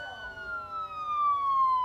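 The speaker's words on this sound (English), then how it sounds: "Our scene fades in with the overwhelming sounds of police sirens and emergency sirens." A wailing police or emergency siren sweeps slowly downward in pitch over a low rumble of street noise, moderately loud and unbroken.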